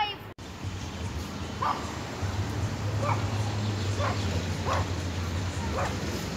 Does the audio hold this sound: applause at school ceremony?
no